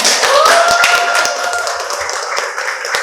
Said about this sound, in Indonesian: kita beri tepuk tangan untuk tim Digital Transformation